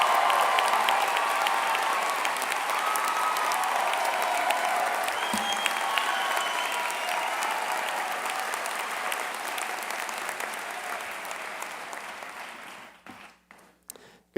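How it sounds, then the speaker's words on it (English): Graduation audience at the McGovern College of the Arts ceremony applauds summa cum laude graduates, a broad, sustained roar of clapping that gradually thins and fades out into scattered final claps near the end. "Would the students graduating summa cum laude please stand and receive our applause?"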